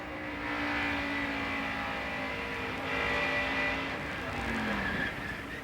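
A NASCAR Kodak Chevrolet stock car at Dover roars at high revs from the in-car camera, engine note steady and loud with brief tire squeal as the rear end slides out.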